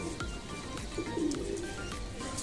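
Pet pigeons coo softly in a low, rolling murmur, with a clearer coo rising midway, against steady background noise and no talking.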